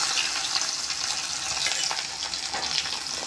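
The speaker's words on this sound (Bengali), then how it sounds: "এবারই তেলের মধ্যে দিয়ে দিলাম রসুন কুচি আর দিয়ে দিলাম পেঁয়াজ কুচি" Chopped garlic and onion sizzle and fry steadily in hot mustard oil, a dense close crackle with light stirring scrapes and no talk.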